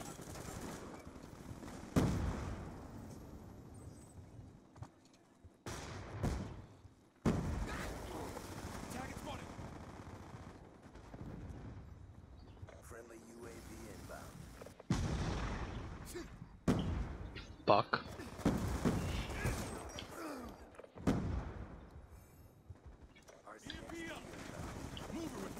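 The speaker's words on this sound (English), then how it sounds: "Use up all your bullets, trying to shoot me." Sporadic gunfire from the video game Black Ops 2, sharp bursts scattered across a busy in-game soundscape at moderate level, with a player talking over it.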